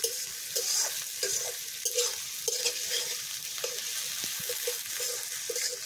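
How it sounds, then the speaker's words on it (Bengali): About 250 grams of onions frying in a pan for a home-style goat meat curry, a steady bright sizzle with regular rhythmic scrapes of stirring, close and alone without talk. "পেঁয়াজটা সুন্দর করে লাল লাল করে ভেজে নেব।"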